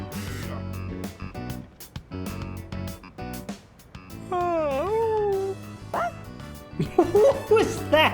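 A dog barking in the video game Persona 3 Reload, a few short yelps and a whining, pitch-bending howl over a steady background music track.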